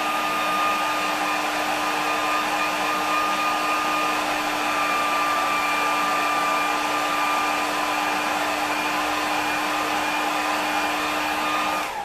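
A hair dryer blows on high to dry watercolour paint, a steady close whirring roar with a constant tone that holds unbroken for about twelve seconds and then cuts off at the end.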